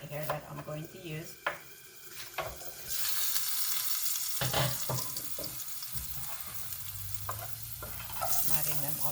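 Celery, carrot and zucchini sauté in a pan for a vegan stew, with a loud steady sizzle that starts partway through and a spoon stirring and scraping the vegetables close up.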